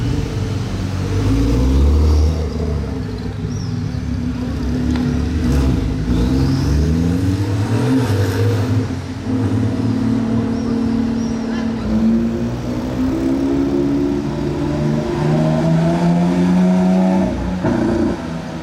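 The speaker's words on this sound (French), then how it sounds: "Alors elle sonne pas d'origine cette Porsche Turbo. Je l'ai entendu arriver." A loud Porsche Turbo engine with a non-stock sound revs close by, its pitch climbing and falling through repeated throttle pulls, with a deep steady rumble throughout.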